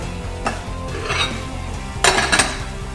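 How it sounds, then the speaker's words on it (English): A utensil scrapes and clinks against a pan while brown rice is stirred and spread out, with a low sizzle underneath and a couple of sharper metallic scrapes near the end, close and with no talking. "Stir it out a little, spread it around."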